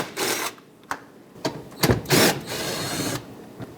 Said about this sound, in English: Remove these two 10mm bolts.